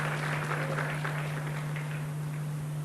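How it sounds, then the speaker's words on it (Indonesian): A church congregation applauds together, a steady wash of clapping that holds evenly throughout under a constant low electrical hum. "Kalau mau tepuk tangan yang melimpah kepada Tuhan Yesus"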